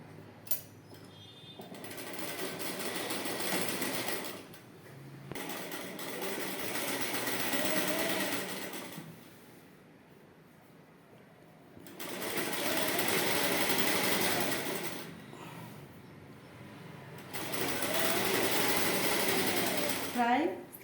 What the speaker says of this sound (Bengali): তো আমি কিন্তু এবার সেলাই শুরু করছি।